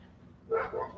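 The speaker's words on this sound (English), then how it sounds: "Dog's barking." A dog barks a couple of times in a short, moderately loud burst in a quiet indoor room where clay dolls are being made.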